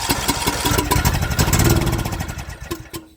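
A riding lawn mower's small engine turns over and catches, then runs with a steady, loud, close-up chugging idle that fades slightly near the end.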